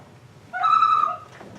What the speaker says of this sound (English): He's a night bird.